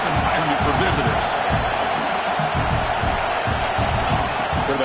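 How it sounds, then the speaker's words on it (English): A dense, constant roar from a packed stadium crowd at a football game, loud and sustained throughout with a few faint higher shouts rising out of the wash. "Listen to the crowd energy here in the early going."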